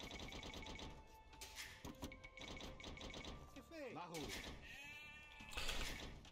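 Sheep bleat in the Age of Empires II video game, a short wavering bleat or two rising out of busy game clicks and tones, with a voice talking faintly alongside.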